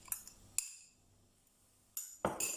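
A spoon scrapes and clinks against a bowl as a sandwich filling with marinated onion is mixed, giving sharp metallic taps with quiet gaps between them and no talk.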